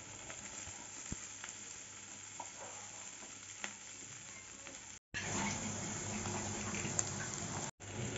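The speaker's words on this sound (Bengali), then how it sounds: "রসুন আর পেঁয়াজটা একটু ভেজে নেব।" Garlic and onion frying in a pan for a spinach curry, a continuous soft sizzle with occasional stirring clicks, louder and brighter in the second half, heard close up.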